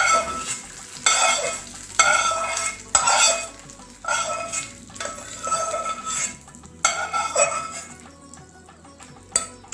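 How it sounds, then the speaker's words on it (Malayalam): Tadka tempering poured into coconut chutney for dosa and stirred, giving a bright crackling sizzle with repeated spoon scrapes against the pot in rhythmic bursts, close and fairly loud, with no talking. "अब हमारी चटनी को तड़के का मेकअप लगा देते हैं."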